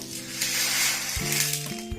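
Dry chickpeas rattle and sizzle as they roast in a hot pan for sattu, a hissing, crackling texture with soft scraping as they are stirred.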